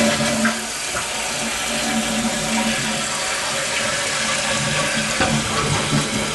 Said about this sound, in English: I'm going to flush it one more time just to check.